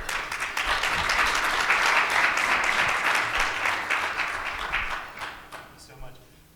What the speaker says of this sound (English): Let's give these three another round of applause